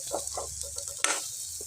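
Steady oil sizzle as Maggi noodle ingredients fry in a pan, with soft clinks and stirring sounds, plus a brief sharper burst of frying partway through; close and moderately loud, no talking.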